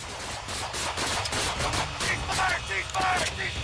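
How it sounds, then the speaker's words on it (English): Rapid bursts of gunfire crackle in quick succession, loud and close, with shouting voices mixed in, erupting after a struggle during a police traffic stop. "A brief struggle followed, and gunfire erupted within seconds"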